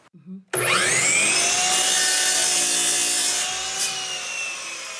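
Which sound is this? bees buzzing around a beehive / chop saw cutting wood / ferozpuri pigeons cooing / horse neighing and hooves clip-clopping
chop saw cutting wood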